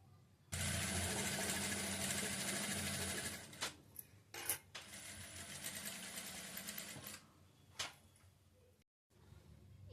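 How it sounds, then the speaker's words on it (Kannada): A sewing machine stitches work-blouse fabric with a loud, close, continuous whir for several seconds. Clicks and short stops break up the later running, and no one talks. "ಇವಾಗ ಇಲ್ಲಿ ಈ ಥರ ಸ್ಟಿಚ್ ಮಾಡಿಕೊಂಡು ಬರೋಣ"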